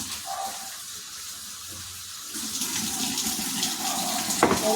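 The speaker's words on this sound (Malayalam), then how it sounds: "മൂന്നാല് വട്ടം നന്നായിട്ട് കഴുകിയെടുക്കണേ." Raw plantains being washed under running tap water, a steady near splash and trickle that grows louder and more agitated partway through as the pieces are handled.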